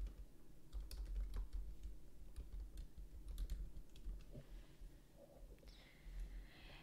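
Someone types an invoice note on a computer keyboard in a steady run of close, soft key clicks, with a brief pause near the end.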